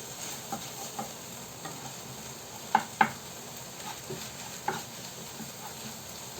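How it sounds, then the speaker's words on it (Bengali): Garlic, onion and chili fry in a pan while being stirred, giving a steady soft sizzle broken by a few sharp clicks of a utensil against the pan. "রসুন পেঁয়াজ মরিচ দিয়ে জাস্ট একটু ভেজে নিলাম"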